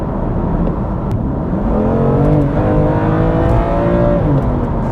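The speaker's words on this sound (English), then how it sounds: "We can definitely hear that S55 engine coming alive." A BMW M2 Competition with the S55 engine pulls hard through snappy gearshifts, its loud, steady engine note climbing in pitch through each gear with brief dips at the shifts, close up and alone.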